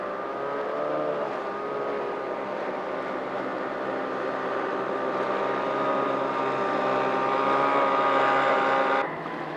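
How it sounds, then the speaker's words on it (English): Small Sorensen fiberglass motorboat running steadily through saltwater on Puget Sound, a continuous engine drone with water rush that swells slightly louder near the end before dropping off abruptly. "I really like the way that boat rides through the water."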